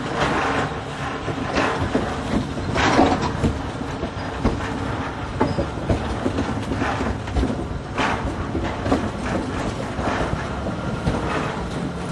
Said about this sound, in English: a train similar to the one you're running on now